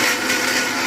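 A kitchen mixer grinder blends a vinegar-based multipurpose sauce, a loud, steady, close whirring drone that holds without a break.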